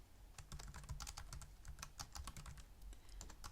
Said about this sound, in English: And now I can type all of these commands in